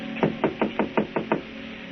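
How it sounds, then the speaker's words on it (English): Seven evenly spaced knocks rap on an apartment door, a firm close series of wooden thuds lasting under two seconds with no voices. "a knock at Gloria's apartment door."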